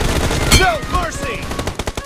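Rapid automatic gunfire in BGMI, a quick loud burst of shots with clattering echoes, followed by scattered lighter hits, close and prominent.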